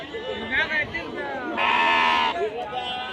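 Sheep and lambs, mostly young females, bleating at the Haveri sheep market, with several wavering calls close by and one louder sustained bleat midway over a busy murmur of the crowd.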